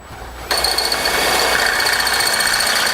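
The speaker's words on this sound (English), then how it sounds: "we're going to drill it out with a 1/2" drill bit using our receiver as a template" A power drill with a 1/2-inch bit bores through the steel frame of a 2018 vehicle during a Roadmaster crossbar-style base plate install, starting abruptly after a quiet half-second and grinding on loudly and steadily.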